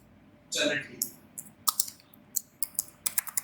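Typing on a computer keyboard, a quick irregular run of sharp key clicks following a brief rustle, close and moderately loud.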